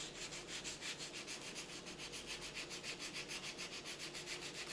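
Hand sanding a spackle corner patch, a continuous string of quick, even back-and-forth scrubbing strokes, close and soft with no talking.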